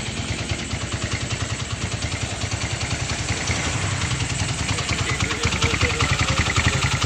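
A small engine drives an odong-odong ride vehicle, chugging in a steady, even low rhythm that grows slightly louder toward the end, with no talk over it.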